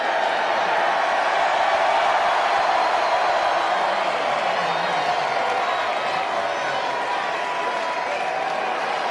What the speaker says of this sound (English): you got a stadium full of people cheering and clapping